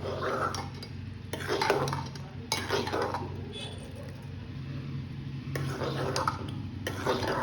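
Mashed rice being mixed with boiled milk for curd rice, with repeated clinks and scrapes of a spoon against a vessel in bursts, nearby, with some talking in the background.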